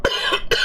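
Three quick coughs from one man, close and sharp, the first two short and the third following after a brief pause, with no talk around them.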